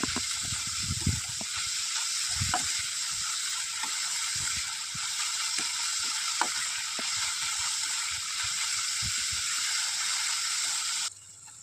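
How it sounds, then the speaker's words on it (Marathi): Chopped onions, three or four, sautéing in two spoonfuls of hot oil for a dried Bombay duck dish, a steady bright sizzle with scattered clicks and scrapes of stirring, close and continuous, ending abruptly. "आता त्याच्यात चिरलेले 3 ते 4 कांदे घालून परतून घ्या."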